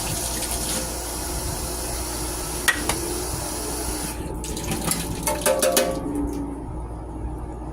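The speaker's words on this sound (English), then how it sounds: "These are yellow cherry tomatoes. I'm just giving them a good wash." Yellow cherry tomatoes get rinsed under a running kitchen tap, with a steady close rush of water, splashing and a few soft knocks as the tomatoes are handled, and no speech.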